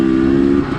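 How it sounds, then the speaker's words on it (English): A Honda CRF300L two-stroke dirt bike engine drones loud and close in a steady, buzzing rev for under a second, with no voices over it. "this two-stroke is too loud. Like when it starts revving"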